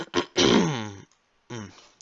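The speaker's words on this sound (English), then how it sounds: "I need to clear my throat." A man clears his throat in short, rough bursts: a brief rasp, then a longer throaty grunt, a pause, and one more shorter clearing, close and fairly loud with no other talk.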